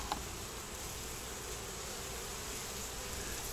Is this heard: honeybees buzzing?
yes